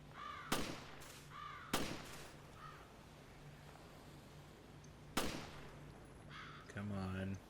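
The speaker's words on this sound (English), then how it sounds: "the crows are invincible in this game" Crows caw in the video game Resident Evil Revelations, several harsh calls spaced apart alongside sharp bangs, fairly faint against a quiet background.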